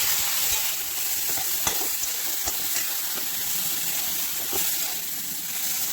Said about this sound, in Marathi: मसाला वाटेपर्यंत आपण वांगे मीठ परतून घेऊ